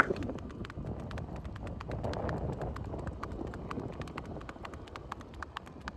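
Hooves of a fully saddled and bridled mare clip-clop steadily as she is ridden, a brisk, even run of sharp strikes against faint wind.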